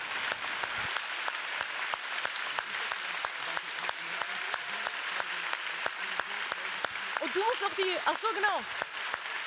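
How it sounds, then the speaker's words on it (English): Dense audience applause fills a German youth literature award ceremony, steady throughout, with a voice briefly speaking over it near the start. "a round of applause for the young people's"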